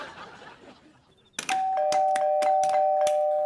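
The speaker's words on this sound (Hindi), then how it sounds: "अबे कौन है जो इतनी रात को शरीफ आदमी के घर की घंटी बजा रहा है?" Doorbell ringing at night in a house, a loud electronic chime sounding repeatedly with a sustained tone, following quieter background murmur.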